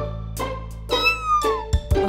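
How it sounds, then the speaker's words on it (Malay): A kitten meows several times in short, rising and falling cries, close and clear over a steady low hum, with a couple of soft thumps near the end. "Ada anak kucing."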